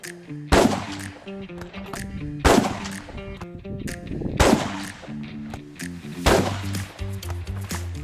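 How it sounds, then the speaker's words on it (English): Rifle shots ring out at a shooting range, four loud booming reports spaced about two seconds apart, each trailing off quickly. Rhythmic background music plays throughout. "All right, so that's 5 shots."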